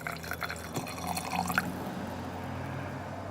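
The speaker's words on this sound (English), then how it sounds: "now I'm just going to add a bit of white spirit" White spirit poured into varnish in a small glass jam jar, a close trickle and drip of liquid that rises briefly then settles into steady low background, with no talk.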